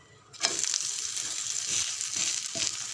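Instant dosa batter frying in a little oil on a pan, a sudden close, bright sizzle that starts after a short pause and holds steady, with a few light crackling bursts.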